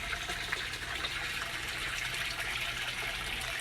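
Water trickles and gushes in a deep water culture hydroponic system in a greenhouse growing hot pepper plants. The flow is a steady, soft, continuous wash with no voices.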